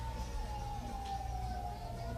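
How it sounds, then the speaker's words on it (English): Several emergency sirens wail across the countryside, a wavering tone drifting slowly downward as it carries from a distance over a low background rumble. "Sounds like sirens."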